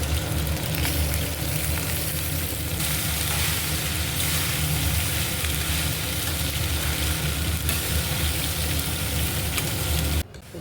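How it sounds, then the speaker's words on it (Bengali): Onions and mixed vegetables frying in a pan for home-style fried rice, giving a steady, close, continuous sizzle that holds at an even loudness and stops abruptly near the end. "ফ্রাইড রাইস হবে, পেঁয়াজ ভাজা হচ্ছে, এবারে সব সবজি দিয়ে দিয়েছে।"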